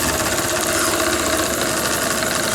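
A live steam engine in the Abeille 13 model tug runs slowly, making a steady, dense mechanical churning and hiss with faint rhythmic beats, loud and close throughout.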